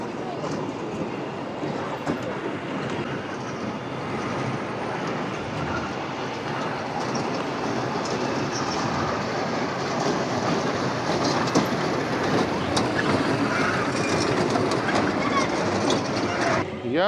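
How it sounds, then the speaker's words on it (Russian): A small locomotive fairground ride runs at a New Year celebration in Luhansk, producing a continuous rolling rumble with rhythmic clickety-clack, and crowd voices can be heard in the background. "О, а здесь вон паровоз, гляньте, побольше, посерьезней."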